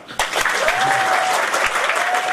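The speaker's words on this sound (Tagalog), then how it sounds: "Kung gusto nyo makasama, lakasan nyo palakpak." Audience applause at a business presentation, a dense wash of many hands clapping near and steady, with a faint tonal whistle or feedback line running through it.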